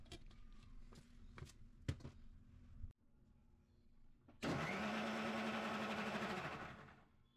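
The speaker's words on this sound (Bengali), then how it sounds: "এরপর গ্রাইন্ড করে নেব।" A kitchen mixer grinder blends oats with sour yogurt and salt into a breakfast smoothie: a few light knocks, then a loud, steady motor whir for about three seconds that winds down at the end.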